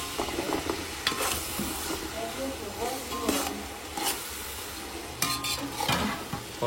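Onions with added salt frying in a pan, cooked for mutton sukka, give a steady close sizzle broken by repeated scraping stirs and occasional clinks of a utensil against the pan.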